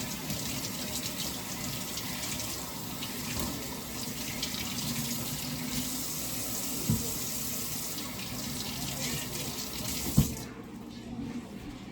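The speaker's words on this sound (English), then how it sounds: "I'm gonna wash my pepper off." Running tap water splashes steadily over peppers in a sink, a continuous close rush of water that cuts off near the end.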